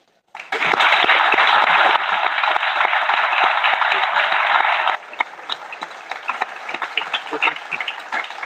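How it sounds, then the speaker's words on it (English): Audience applause at a live show swells abruptly into loud, dense clapping that holds steady for several seconds, then drops to thinner, scattered claps and crowd noise. "Keep that applause going"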